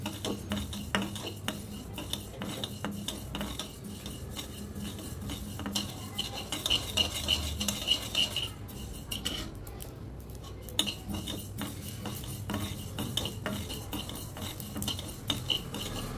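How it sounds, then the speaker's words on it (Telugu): Mustard seeds splutter while frying in a pan for mango pickle: faint, quick clicking pops scattered over a low background, with occasional metallic utensil clinks. "బాగా చిట్టుపట్టలాడుతున్నాయి"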